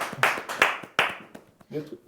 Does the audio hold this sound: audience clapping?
yes